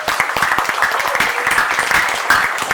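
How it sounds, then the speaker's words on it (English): An audience at a reception applauds the president, a brisk, even patter of many hands clapping at close range that continues steadily for a few seconds. "Let's give him another round of applause"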